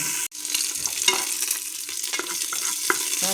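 Mustard seeds crackle in hot oil during tempering for a simple tomato saar, alongside garlic, with a steady close sizzle and scattered sharp pops throughout.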